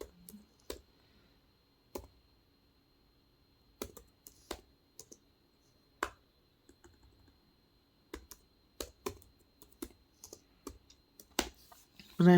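Keystrokes on a computer keyboard while entering SQL code to create an employee table, scattered single clicks and short bursts in an otherwise quiet room, close and fairly soft.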